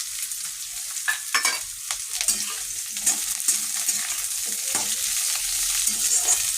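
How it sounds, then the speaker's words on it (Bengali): Capsicum and thick-cut onion frying in a pan for chilli paneer, a continuous bright sizzle with a spatula scraping and stirring at irregular intervals, close and clear with no talk. "একটু ভেজে নেব।"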